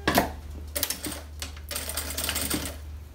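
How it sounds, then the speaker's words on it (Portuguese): A sewing machine stitches bias binding along the mesh edge of a baby bag, close by, in quick bursts of rapid mechanical clatter separated by short pauses. "Dobro e vou passar a costura aqui pra dar o acabamento aqui nessa telinha."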